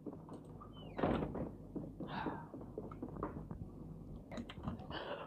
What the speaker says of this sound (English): Oh, got to close the door.